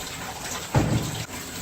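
Warm tap water runs into a sink for a hair rinse, a short gushing burst of splashing flow that swells mid-clip and then drops away over a low steady background.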